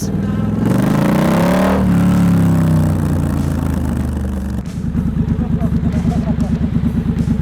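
A Triumph Scrambler 1200X engine with an aftermarket exhaust and deleted catalytic converter revs loudly and rises in pitch, then settles into a rough, throaty idle with a deep rumbling exhaust.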